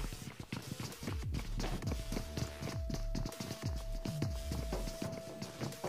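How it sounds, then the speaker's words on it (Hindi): Footsteps in the BGMI (PUBG Mobile) video game thud in a quick, steady rhythm, running over a continuous game background tone with no talk. "जैसा कि सुन रहे हो फुटस्टेप आते हैं"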